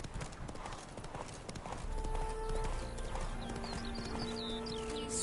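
Roach, Geralt's horse in The Witcher video game, clip-clops in a steady rhythmic trot under in-game music, with a faint neigh near the end.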